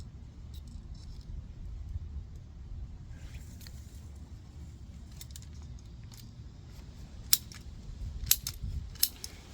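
Snipping and clicking as PVC sprinkler pipe is cut for an inground repair, with a few sharp clicks near the end over a low outdoor rumble.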